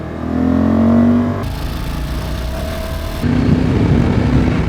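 A Honda Africa Twin Adventure Sports motorcycle engine revs up close and loud, climbing to a peak then holding a steady throttle with abrupt shifts in pitch, with no talking.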